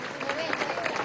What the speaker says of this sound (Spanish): un aplauso a los periodistas